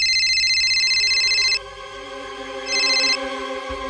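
A telephone rings in two electronic bursts, a long ring then a shorter one after a pause, with a low hum beneath.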